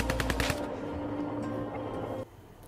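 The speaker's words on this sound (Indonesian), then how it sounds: "tiba-tiba mereka mendengar suara tembakan dari arah lain" A rapid burst of gunfire crackles at the start, then a tense, sustained rumble continues before cutting off abruptly, in a war film battle scene.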